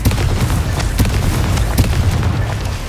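Blasting spell explosion from the Hogwarts Legacy video game: loud, continuous booming blasts with sharp bursts at about one and two seconds, filling the whole stretch with rumbling, crackling energy and no talk.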